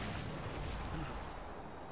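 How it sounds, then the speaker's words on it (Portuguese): Explosion jutsu blast in a Naruto Shippuden video game, a loud, sustained rumbling boom that fills the whole stretch with dense low-end roar and crackle, no voices over it. "Nossa senhora, uma explosão, mano."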